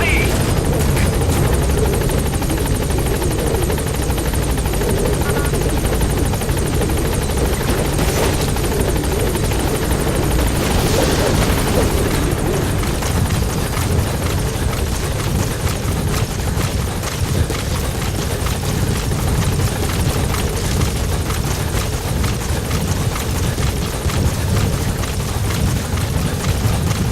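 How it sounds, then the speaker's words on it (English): In the Metal Gear Solid 5 video game, a support helicopter arrives at the landing zone, its rotors a loud, constant whirring roar that fills the whole stretch, with game voices over it. "Support helicopter has arrived."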